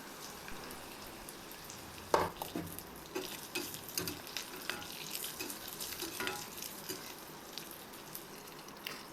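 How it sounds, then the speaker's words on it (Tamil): Onions, dried red chilies and spinach fry in a pan for a South Indian palak greens dish, giving a steady low sizzle with soft stirring scrapes and a sharper clink near the start, with no voices. "2-3 வரமிளகாவை கிள்ளி போட்டு எல்லாமே நல்லா ஃப்ரை ஆகவும் கீரையை தாளித்து நம்ம எடுத்துக்கலாம்"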